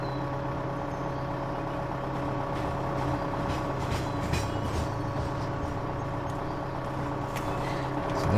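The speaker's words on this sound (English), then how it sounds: "And you can send this train off too." Train departing in Farming Simulator 2015, a steady low rumbling hum of rail wagons with a droning engine tone, continuous and moderately loud, no talk.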